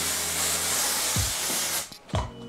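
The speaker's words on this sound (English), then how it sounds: "Haze aerosol can spray." An aerosol can of haze sprays in a continuous, fairly loud hiss that runs for nearly two seconds, then stops abruptly, followed by a couple of soft handling knocks.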